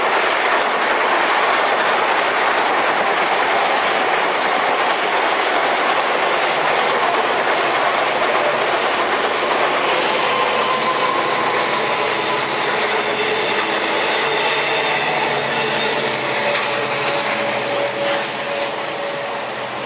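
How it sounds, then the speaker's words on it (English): Long Island Rail Road trains pass, one bound for Port Jefferson, making a loud, close, sustained rumble with rhythmic clickety-clack of wheels over rail joints and faint wheel squeal as the cars roll steadily by. "Here comes train, whoa, 662 to Port Jefferson on the left and 2740 to Spionk on the right."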